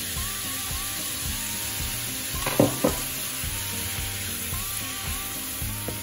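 Tomatoes fry in a pan with ground meat, giving a steady soft sizzle with brief stirring scrapes and clinks of a utensil against the pan.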